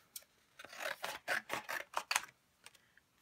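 Scissors snip off a small piece of paper for a Happy Planner page, a quick run of close, soft cutting snips with short gaps and no talk.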